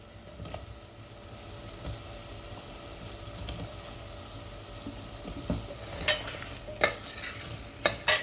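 Drumsticks (moringa pods) are added to a pan of tomatoes being fried down for a Sindhi drumstick and potato curry and stirred, giving a steady soft sizzle with several sharp scraping clacks of the spoon toward the end.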